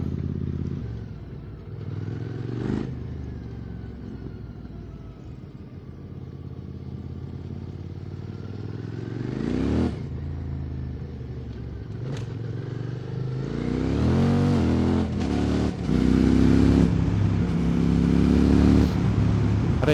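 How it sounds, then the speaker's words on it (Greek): A QJ SVT 650X motorcycle engine drones steadily throughout a ride, rising in revs at a few points and growing louder near the end, with wind and road noise and no talk. "νομίζω το μοτέρ δουλεύει καλύτερα"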